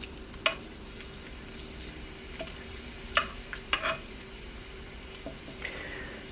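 Bacon frying in a Nostalgia MyMini cast iron skillet, giving a soft steady sizzle with a few sharp pops and clicks scattered through it, faint and close.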